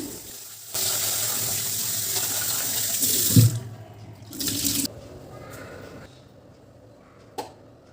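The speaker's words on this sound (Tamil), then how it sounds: "இப்போ ஃபஸ்ட்டில் ரைஸ் தான் வாஷ் பண்ணி வேக வைக்க போகிறேன்." Rice is washed under a kitchen tap, with loud running water filling a sink for about three seconds before tapering into softer splashes, a few rinsing sounds and a sharp clink near the end.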